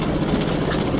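A 1989 Mercedes-Benz O303 bus runs its diesel engine, a loud, close, steady rough clatter with a rapid knocking pulse and no talk.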